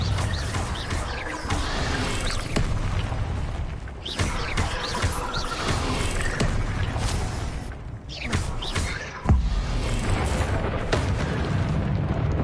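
Blasting spell explosions from Hogwarts Legacy, several booming, crashing bursts amid dense magical combat effects, loud and continuous, with one heavy impact near the end.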